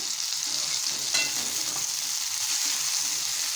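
Onions and other ingredients for a bitter gourd curry sauté in a clay pot, making a bright, close, crackling sizzle with steady scraping of a spoon. It sounds loud and continuous throughout, with no speech.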